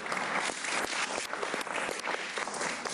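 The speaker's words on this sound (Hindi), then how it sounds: "आज बैठे उसकी तालियां बजाइए।" Sustained applause from the studio audience of a Pakistani cricket discussion show, loud and dense clapping running continuously for about three seconds without speech.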